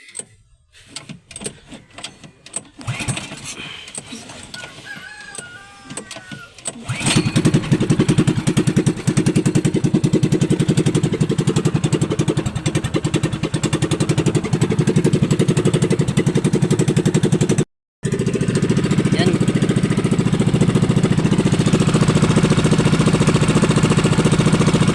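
A boat engine clatters through a few rough start attempts, then catches and runs loud and steady close by, a constant droning rumble with one brief cutout before resuming.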